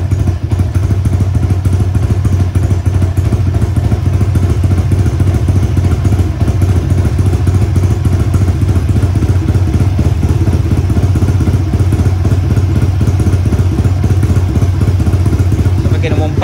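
A motorcycle engine runs loud and close for the whole stretch, a dense low rumble with clattering mechanical detail and no clear rise in revs.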